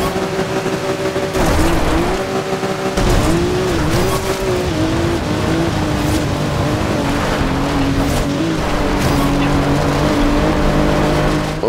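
A race car in Forza Horizon 2 sliding along a gravel riverbed cross-country course, loud droning engine revs shifting pitch with gritty tyre scrabble and skid noise, continuous and close throughout.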